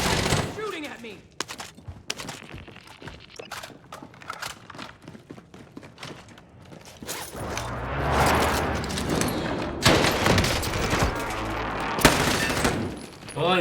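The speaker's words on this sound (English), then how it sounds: "Taking direct fire!" Rapid bursts of video game gunfire crackle in uneven volleys, growing denser and louder in the second half, with a player's voice talking over the shots.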